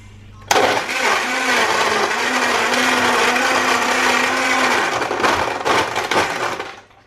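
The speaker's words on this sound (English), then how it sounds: "And the blender's at the back." A blender whirs loudly while crushing ice cubes with peanut butter and chocolate brownie protein powder into a shake, starting abruptly and running steadily for about four seconds before rattling down and stopping.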